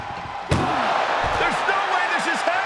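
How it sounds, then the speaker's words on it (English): An ambulance door slammed hard during a wrestling match in a noisy arena, one sharp loud bang followed by crowd roar and commentary. "Trying to force the first door closed."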